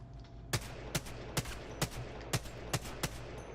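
Seven evenly spaced gunshots from a weapon in Apex Legends during aim-drill practice, each sharp report ringing over a steady game background hum, with no talking.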